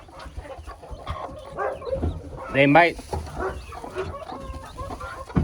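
A broody hen in a backyard chicken coop clucks in short, scattered bursts, close by, with a person talking intermittently over the sounds.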